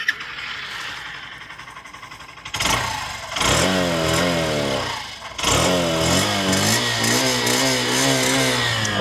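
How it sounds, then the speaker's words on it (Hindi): A Honda Shine 100 DX motorcycle starts up close by, its small single-cylinder exhaust rising through a couple of revs before settling into a steady idle, with no talking over it. "मैं इसकी आपको एग्जॉस्ट साउंड सुना देता हूँ।"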